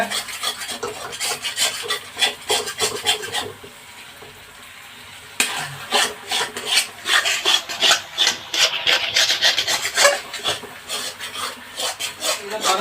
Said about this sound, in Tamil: நெய் நல்லா பிரிஞ்சு வரணும் அளவுக்கு கலக்கிங்க